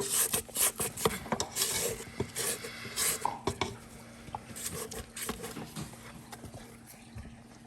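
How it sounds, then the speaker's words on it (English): Scraping and rubbing against a mixing bowl while cleaning it during coconut layer cake baking, a run of close, uneven rasping strokes and knocks, loudest early on and then quieter. "let's clean the bowl here"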